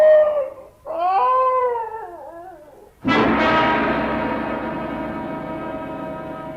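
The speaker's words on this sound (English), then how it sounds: "Why, it's the Higley dog." A dog whining in long wavering cries, pining for its absent mistress, rising and falling twice before a loud, sustained, slowly fading howl-like tone fills the rest.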